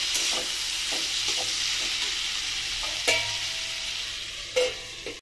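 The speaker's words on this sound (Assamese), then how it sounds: "ভাজি বনাই আছো" Cauliflower and potato fry in a pan with a steady, close sizzle, broken by the scrape of stirring and a couple of sharper clacks.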